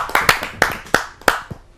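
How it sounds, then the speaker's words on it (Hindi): A few pairs of hands clap at a poetry gathering to welcome a speaker: about half a dozen crisp, close claps in a loose, uneven rhythm, alone with no voices. "आइए जोरदार तालियों से उनका स्वागत"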